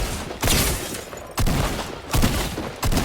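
Shotgun blasts in a video game, four loud booming shots spaced roughly a second apart, each with a sustained echoing tail, nearby and with no talk.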